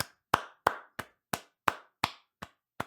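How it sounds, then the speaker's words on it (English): Slow, single hand claps, about eight sharp separate claps spaced roughly evenly, close and crisp with no other sound between them. "yeah, I can join in the applause there."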